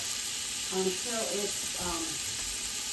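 Onions frying in melted butter in a pot for lemon orzo chicken soup give a steady, close sizzling hiss as they are stirred, with a voice briefly audible partway through.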